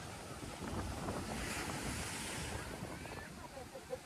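Sea waves wash onto the shore at Somnath in a continuous rolling surge, with heavy wind buffeting the microphone and a small knock near the end.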